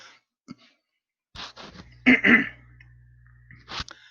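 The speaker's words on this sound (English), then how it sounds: "I had to clear my throat" A short, gruff throat clearing near the microphone, a couple of rough bursts followed by a low hum and a final sharp click-like sound.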